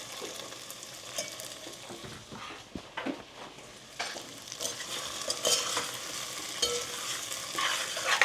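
Fried mogo (cassava) chips are tossed and mixed with pink salt, turmeric and masala. Irregular dry rustling and scraping rises and falls in uneven bursts, fairly close, with no talking.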